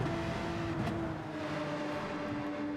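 A race car engine in Gran Turismo 7 drones during a daily online race, its steady held tones shifting slightly as the car is pushed wide toward a corner exit, moderately quiet and without speech.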